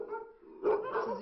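Dogs bought from local farmers and kept for slaughter bark in short bursts, one yelp, then a louder cluster of overlapping barks close by.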